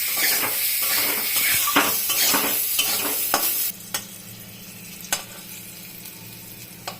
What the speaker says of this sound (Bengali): দিয়ে এখন সুন্দর করে ঢেকে ঢেকে মিষ্টি কুমড়োটাকে ভাজবো